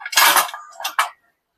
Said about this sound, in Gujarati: હવે જો આપણે આ કુકરનું ઢાંકણું ખોલી નાખીએ છીએ.